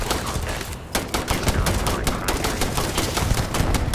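Rapid gunfire from a firefight in the video game Starfield, loud dense bursts and sharp repeated shots crackling continuously, with a brief lull before the shooting resumes.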